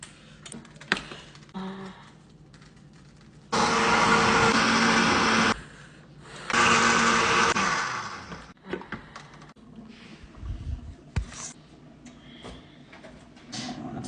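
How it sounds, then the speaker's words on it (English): A blender roars in two loud bursts of a few seconds each, blending vegetables for Nigerian stew, separated by a short pause, with quieter clicks and clatter around them. "they all go into this blender"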